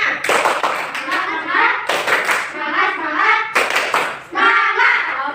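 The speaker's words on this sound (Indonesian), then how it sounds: "Coba kita tepuk semangat lagi ya. Tepuk semangat." A class of children does rhythmic group clapping, loud and close, in three sharp bursts separated by brief pauses, with young voices chanting along.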